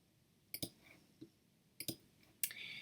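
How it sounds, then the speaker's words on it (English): A few soft, sharp mouse clicks on an email send button, isolated taps spaced over a couple of seconds in a quiet room, with a faint chime-like tone after the last one. "Then I will click the send button."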